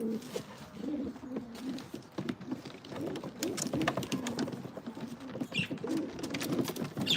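Breeding pigeons coo repeatedly in a loft, soft overlapping throaty calls at close range with faint rustling and scattered chirps, no talking.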